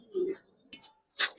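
Pigeons at a pigeon farm give a few short low coos, with a brief sharper sound near the end, close and fairly faint.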